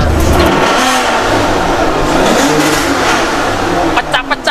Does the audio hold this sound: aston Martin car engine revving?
yes